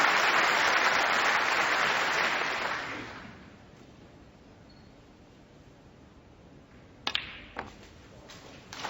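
Applause rings out from a snooker crowd at the Masters final after Mark Selby's well-played shot, loud and dense at first, then fading away into quiet room tone with a few faint knocks.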